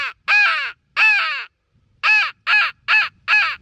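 A single-reed mouth call imitates a crow: seven loud, harsh caws, with three spaced apart and then four in quicker succession, each one clear against silence.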